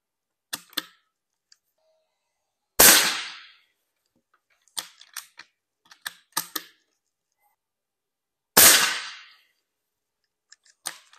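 Sharp air rifle shots firing Estrela de Prata 5.5mm pellets: about four loud cracks with short tails, spaced several seconds apart, mixed with quieter clicks and handling noises between them, with no talking.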